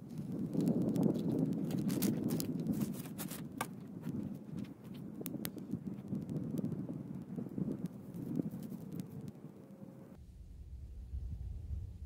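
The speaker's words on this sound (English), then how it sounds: "It's a wee bit windy. It's a breezy day." Wind gusts and buffets the microphone outdoors on the Waterloo Pinckney Trail on a breezy day, a steady low rumble with scattered rustles and clicks that drops away abruptly near the end.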